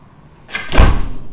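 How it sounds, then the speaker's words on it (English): A door swings and shuts with a firm thud in an indoor room, a brief rustle of movement leading into the closing impact, loud and close with no talk over it. "Shut the door."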